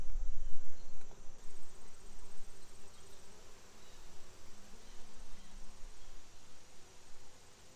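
Honey bees buzz over hive frames, a continuous close hum of many wings that swells and fades as they move, rising and falling in loudness with no talk.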